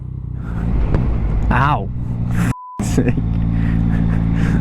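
A Yamaha MT-09 SP motorcycle engine drones loudly and steadily while riding, with a passenger's voice and exclamations over the top and a brief dropout partway through.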